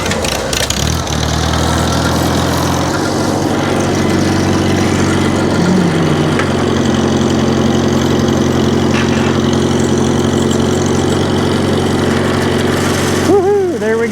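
A Farmall Cub tractor engine cranks and catches about a second in, then runs at a steady, loud, throbbing idle close by, with a brief rising whine near the end.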